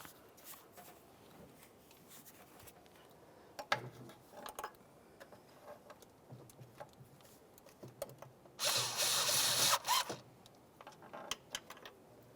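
A power tool snugs intake manifold bolts on a 2004-2015 Nissan Titan engine during a knock sensor replacement, with short whirring bursts, one longer run, and scattered clicks and clanks of handling in between.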